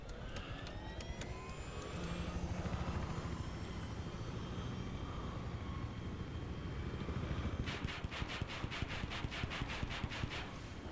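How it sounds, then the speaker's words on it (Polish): Helicopter in the video game Battlefield 3, a steady rotor and engine drone throughout, with a rapid chopping blade pulse emerging near the end, with no talking. "Mam helikopter."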